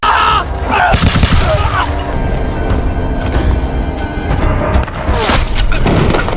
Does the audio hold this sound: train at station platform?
no